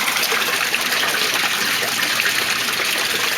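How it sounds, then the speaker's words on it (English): Water gushes steadily as an aquaponics grow bed siphon drains, a continuous close rush of falling liquid with no voices. "That's the siphon going."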